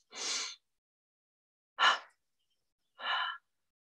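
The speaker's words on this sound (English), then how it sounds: "Let's end this technique with a gentle double breath" Three soft breaths during a guided meditation, a gentle double breath followed by another, each a short airy exhale separated by silence, close and quiet with no talking.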